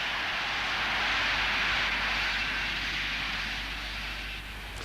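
AV-8 Harrier jet engine during a vertical landing, a steady broad roaring hiss held at constant loudness that eases slightly at the very end, with no voices.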